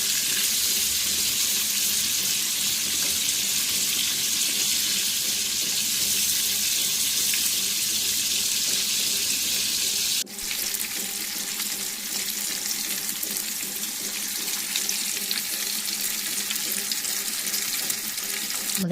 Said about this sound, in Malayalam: ഒരു മീഡിയം റേഞ്ചിൽ നിന്ന് വേണം നമ്മളത് ഫ്രൈ ആക്കി എടുക്കാൻ.